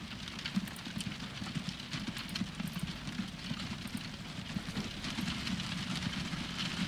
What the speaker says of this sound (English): The posh horses.